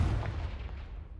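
A Confringo fire spell blast in the video game Hogwarts Legacy, a single deep, booming explosion that rumbles and decays over about a second, loud and close, with no talking.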